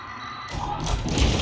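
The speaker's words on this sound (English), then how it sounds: "Spooling the hyperdrive." Star Wars Outlaws ship hyperdrive spooling up: a quiet hum swells abruptly into a broad, rising rumbling roar that builds and holds loud to the end, with no voices.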